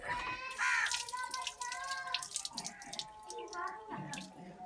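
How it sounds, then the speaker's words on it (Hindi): A cup is washed by hand under a running tap, with water splashing and gurgling close by in uneven bursts, and faint clinks mixed in. "तो कप जो है ना अच्छी तरीके से धोना है हमने"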